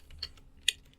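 A few sparse keystrokes on a computer keyboard, two or three sharp distinct taps at a close distance over quiet background, while commands are typed into a Kali Linux terminal.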